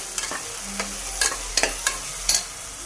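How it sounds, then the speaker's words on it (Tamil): Mutton bones stirred in a pan with sautéed tomato, ginger and garlic for mutton kulambu, giving a series of short clattering stir scrapes over a faint steady sizzle. "இப்போ எலும்பு போட்டு வதக்கிக்கலாம்."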